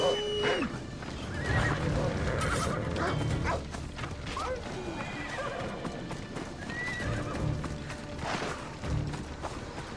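In Assassin's Creed Odyssey a horse trots with rhythmic hoofbeats while letting out a couple of loud neighs, near the start and again near the end, with a dog barking faintly in the background.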